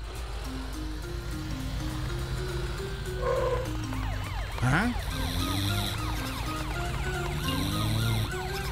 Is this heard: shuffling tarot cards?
no